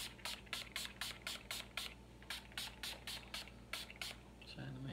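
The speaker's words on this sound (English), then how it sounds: "I'm going to go in with the Urban Decay Deep Slick Makeup Setting Spray Oil Control." Urban Decay Deep Slick oil-control makeup setting spray is pumped onto a face in a quick series of about a dozen short, soft, hissing mist bursts, close but quiet, with a brief voice at the end.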